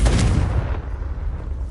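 A Confringo spell bursts in Hogwarts Legacy with a loud, booming explosive blast at the start that rumbles and fades into a lingering low roar.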